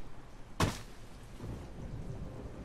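Steady rain falls in a dark, tense scene of The Walking Dead video game, with a loud sudden crack like thunder or a slammed door near the start before the even downpour hiss carries on alone.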